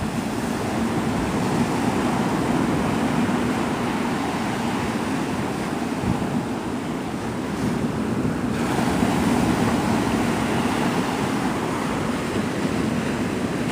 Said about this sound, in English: These waves are big today.